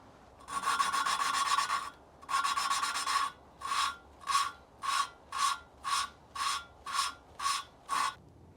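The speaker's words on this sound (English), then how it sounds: "we have to lap the valves to each seat" Engine valves lapped onto their seats with lapping compound in a 1974 Alfa Romeo Spider 1750 engine rebuild: two long gritty rasping bursts, then a run of about eight short rhythmic rubbing strokes, close and clear.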